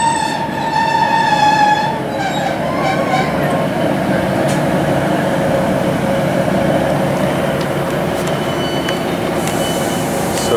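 A train runs toward Newcastle Central with a steady rumble of wheels on track, and a tonal onboard announcement or chime sounds over the running noise early on.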